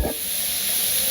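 Spinach greens fry in hot oil in a pan, giving a steady, close, loud sizzle with an even hiss throughout and no talking.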